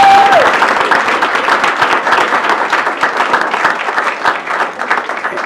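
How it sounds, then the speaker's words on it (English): Steady applause from a crowd greeting a state champion basketball team, continuous and fairly loud for over five seconds, with a faint sliding whistle-like tone at the very start. "Give them a round of applause while they're coming up"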